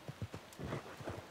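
Several hollow horse hoof clops in an uneven, quick rhythm, close by, with some snorting breath and shuffling in between, from the video game Red Dead Redemption 2.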